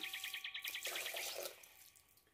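Hot water being poured into a bowl of dough: a close, bright trickling splash that runs steadily, then thins and fades to quiet by the end, with no talking.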